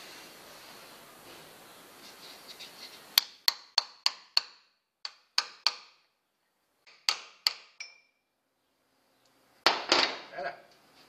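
A socket is tapped to seat an oil seal during the restoration of a Toyota HJ61 Land Cruiser: a run of sharp, close metallic taps in irregular clusters with short pauses, after a few seconds of low background talk.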